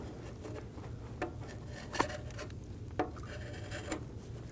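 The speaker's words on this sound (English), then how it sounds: "Using a scraper, we're going to clean the mating surface where our intake gaskets are going to sit." A scraper works over the intake manifold gasket mating surface on a 2008-2015 Scion xB 2.4L four-cylinder, making faint scratchy rubs with a few sharp scrape strokes spaced about a second apart, close by without talk.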